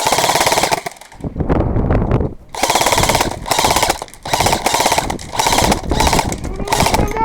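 Airsoft guns fire in rapid automatic bursts during an indoor CQB arena match, several loud, dense volleys separated by short pauses, with players' voices mixed in.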